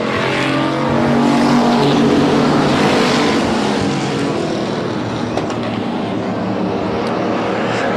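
Race cars roar around a racetrack after the green flag in a Road Warriors event. A dense, loud, continuous engine drone holds steady throughout with no gaps.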